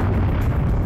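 A loud, sustained explosion rumbles continuously from a The Fifth Element video game, a deep boom filling the whole brief moment without any talk.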